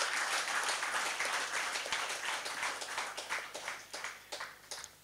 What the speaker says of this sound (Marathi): आपल्यासमोर सूत्रसंचालक म्हणून मॅक्सवेल आहेत, ह्या सगळ्यांसाठी एक जोरदार मला वाटतं टाळ्यांचा कडकडाट होणं गरजेचं आहे.